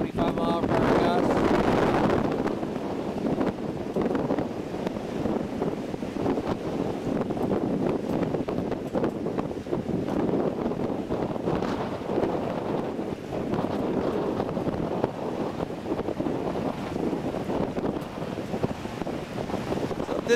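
Strong gusting wind around a Lynx vertical-axis wind turbine, around 25 mph, roars steadily into the microphone with a louder buffet in the first couple of seconds and a continuous rushing after that, with no talk.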